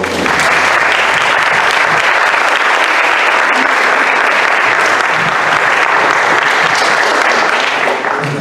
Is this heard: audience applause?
yes